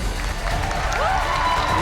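Friends and family of contestants cheer and applaud on a cooking competition set, a dense, steady wash of crowd noise with a brief rising whistle or whoop partway through.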